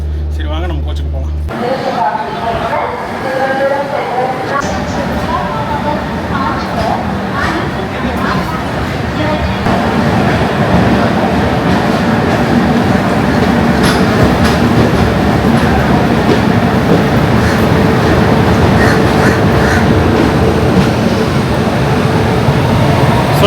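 Steady rumble of an Indian railway station with the Thiruvananthapuram–Kannur Jan Shatabdi train idling at the platform, a constant low hum and occasional clanks, with voices murmuring under the noise.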